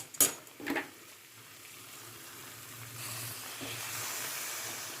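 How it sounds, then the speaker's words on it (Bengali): Hot water poured into a sizzling potato curry (aloo dum), two sharp splashes followed by a rising, steady hiss of steam and bubbling, close and fairly quiet. "গ্রেভির জন্য এবার গরম জলটা ইউজ করছি।"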